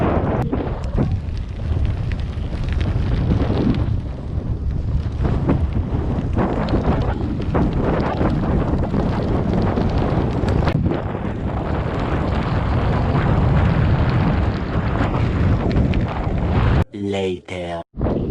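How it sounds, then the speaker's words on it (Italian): Strong wind on a bike ride along the Alpe Adria cycle route buffets the microphone with loud, rumbling gusts that roar almost nonstop, ending with a brief burst of other noise. "c'è tantissimo vento"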